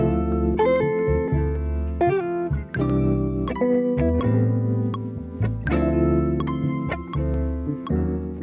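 Music loop replayed through a free audio plugin in its 1.5 times interval mode, dense sustained notes and chords with sharp repeated attacks, steady and loud, with no talking.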